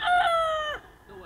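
A gamefarm fighting cock crows once, near and loud, its bright, strained call lasting under a second before trailing off into quieter background sound.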